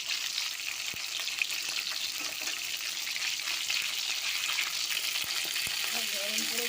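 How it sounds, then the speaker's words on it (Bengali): Fish frying in a pan in a home kitchen, a steady bright sizzle of hot oil running throughout, with a few faint clinks and soft background sounds. "মাছটা ভাজা হচ্ছে"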